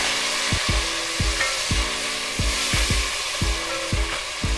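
Tomato puree fries with browned garlic in a pan for a pakora curry, a continuous sizzle under regular scraping stir strokes, about nine of them in a steady rhythm, close and with no talking.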